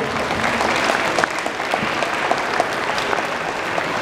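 An audience at a demonstration of the Asimo robot carrying coffee breaks into steady applause, a dense field of clapping with a few sharper individual claps standing out.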